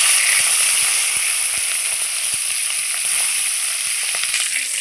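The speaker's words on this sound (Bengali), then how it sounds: "মাছের মাথাটাও আমি সুন্দর করে ভেজে নিয়েছি" A rui fish head fries in hot oil with a loud, steady, close sizzle that stays unbroken throughout, dotted with small crackles and pops and with no talking.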